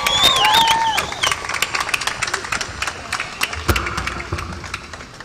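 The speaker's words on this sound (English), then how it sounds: "give her a round of applause as well" Audience applause at the City of Compton 2013 swearing-in ceremony, a burst of scattered claps and crowd noise that starts loud and then thins into lighter, uneven clapping.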